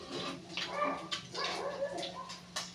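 A dog lets out several short barks and whimpers at moderate distance over household noise and faint running water, and a voice is heard between them.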